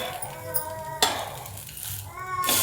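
Poha and rava amboli turned over in a hot pan: a soft sizzle with a sharp metallic clink near the middle and a louder scrape at the end.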